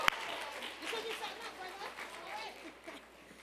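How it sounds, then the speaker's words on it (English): A crowd claps and cheers together, a dense wash of applause that gradually thins out toward the end. "Let's give yourselves a round of applause."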